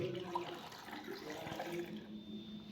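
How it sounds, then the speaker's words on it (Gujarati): Water poured into a glass jar of whole amla, a steady soft gurgling stream running continuously at low volume, fairly close. "બધા જ આમળા ડૂબે એટલું આપણે પાણી રેડીશું।"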